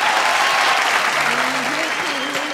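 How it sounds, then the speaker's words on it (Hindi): Loud, sustained applause from a studio audience at a televised singing competition, a dense steady clapping wash that carries through the whole stretch, with a voice briefly audible underneath. "जोरदार ताली"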